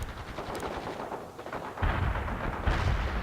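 Artillery strike in World in Conflict, heard as a steady rumble of distant bombardment and gunfire that swells into heavier, louder impacts partway through, with a second surge near the end.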